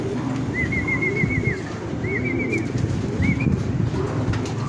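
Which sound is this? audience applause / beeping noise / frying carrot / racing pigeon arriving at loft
racing pigeon arriving at loft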